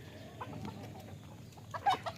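Free-range chickens kept outdoors in front of a house give a few soft, scattered clucks, faint and somewhat distant over quiet outdoor background.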